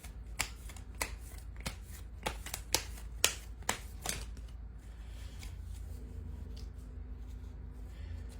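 Angel cards being shuffled by hand, a string of crisp riffling snaps at a steady pace, close and fairly quiet, then fading into soft room noise.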